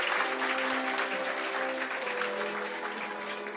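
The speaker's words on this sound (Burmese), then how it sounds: "လက်ခုပ်များဖြင့်နောက်တစ်ချိန်ထပ်မံဂုဏ်ပြုကြပါခင်ဗျာ" Audience applause at a press event, a dense steady wash of many hands clapping throughout, loud and close, with a faint voice underneath.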